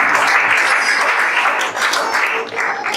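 A church congregation applauds the Lord, dense clapping filling the room loudly and evenly, thinning slightly near the end, with no voices on top.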